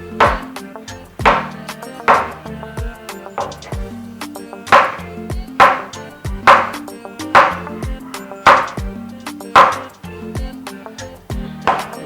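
A knife chops steadily on a cutting board, about a dozen sharp, evenly spaced thuds with a brief ring after each.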